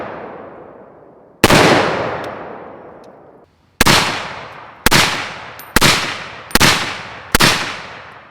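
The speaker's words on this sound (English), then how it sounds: "AR10 with the LMT long flash hider." Six sharp gunshots from an LMT AR10 rifle fitted with a long flash hider, fired one at a time at irregular intervals. Each loud crack fades into a long trailing echo.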